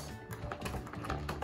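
Scissors cut through plastic toy packaging during an unboxing, giving a quick series of faint, close, sharp snips and clicks.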